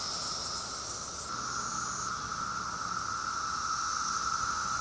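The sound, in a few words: cicadas buzzing in Washington DC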